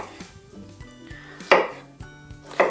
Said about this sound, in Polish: Teraz pokroję w kostkę dwie cebulki małe.